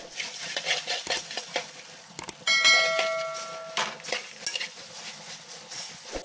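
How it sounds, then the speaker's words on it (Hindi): Puffed rice (mamra) being stirred and tossed for bhel puri, with a steady rustle of crisp grains, a few utensil clinks and a brief bright metallic ring partway through. "अब डाल देंगे मुमरे। अब इसे अच्छे से मिक्स कर लेंगे।"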